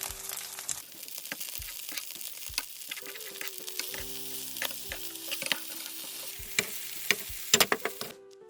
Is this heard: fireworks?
no